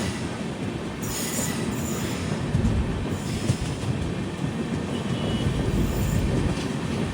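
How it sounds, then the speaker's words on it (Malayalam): Goods train running on a parallel track in India, heard from a moving passenger express: a steady loud rumble of wheels on rail with rhythmic clickety-clack and occasional squealing, continuous throughout with no talk. "ഇവിടെ നിന്നൊരു പാരലർ റണ്ണാണ്, ഒരു ഗുഡ്സ് ട്രെയിനും കൂടെ അതുവഴി വരുന്നത് കാണാം."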